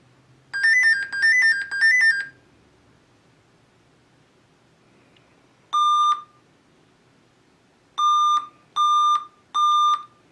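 Electronic error beeps from a Dell Inspiron N4020 laptop sound in bursts: a quick triple chirp, a pause, then a single beep and a rapid run of four more, loud and clear over a faint hum.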